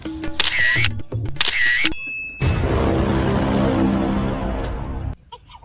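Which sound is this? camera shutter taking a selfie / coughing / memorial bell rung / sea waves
camera shutter taking a selfie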